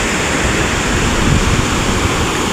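Floodwater rushes loudly down the swollen Shetrunji river, a dense, continuous roar close by and steady throughout with no other sounds standing out.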